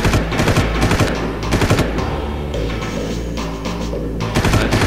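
Rapid automatic gunfire and bursts of shots from the first Far Cry game, dense and continuous over a low rumble of game ambience and music, loud and close throughout.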